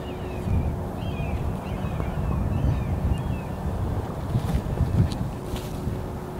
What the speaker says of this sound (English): Still gonna be a tester with this wind.